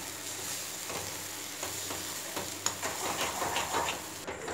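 Sambar simmering in a pot on a gas flame is stirred, a steady bubbling sizzle with soft scraping touches, close and moderately loud.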